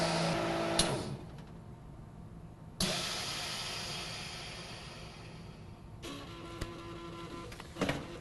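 Vacuum sealer set to 90% pressure pulling air from a bag across the seal bar, a steady mechanical hum that starts abruptly, runs several seconds, then cuts off with clicks at the sealing stage.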